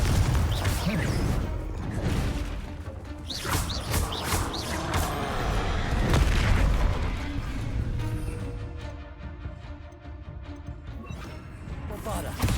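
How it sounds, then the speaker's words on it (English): A Confringo fire spell blast in Hogwarts Legacy: crashing, booming impacts and whooshes amid battle clatter, loud and busy throughout, with a voice shouting spell names over it. "Confringo!"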